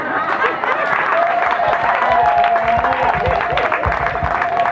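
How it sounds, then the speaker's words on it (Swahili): A crowd of guests at a traditional wedding applauds the MC with steady clapping, along with chatter and a sustained tone in the room. "Hebu tumpe makofi mama jamani"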